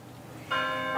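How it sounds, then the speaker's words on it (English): A bell rings with a clear, sustained metallic tone that starts abruptly and holds, sounding close over a soft background hush. "Ding dong, ding dong. The bells are ringing."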